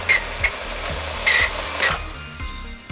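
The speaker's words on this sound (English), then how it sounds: "Like this is the RYOBI 18 volt spreader." A RYOBI 18 volt battery spreader scatters fire ant granules across a lawn. A steady motor whir runs under rhythmic rattling bursts as the granules fly out, loud and close.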